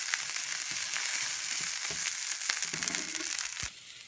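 Potatoes fry in a pan with a constant close sizzle, while intermittent scraping, crunching stirs break through; the frying drops a bit quieter near the end.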